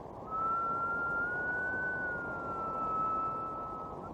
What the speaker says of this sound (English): the whistle of a train. As the train comes towards you and goes away, the note rises and then falls